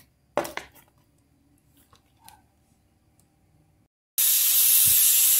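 A pressure cooker full of beans releases a loud, steady hiss that starts abruptly after a few quiet seconds of faint kitchen clatter and a brief knock.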